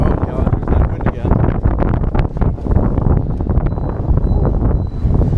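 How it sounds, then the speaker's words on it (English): Wind buffets an outdoor microphone in loud, continuous rumbling gusts that are steady throughout, with a voice talking underneath. "oh god, there's that wind again"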